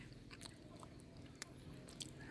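Someone eating cooked saba banana outdoors behind a house, with soft close chewing and a few sharp biting clicks over a steady background hum.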